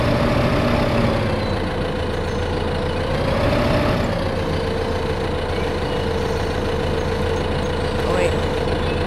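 Tractor engine in Farming Simulator idling steadily with a low, constant drone throughout, with people talking over it.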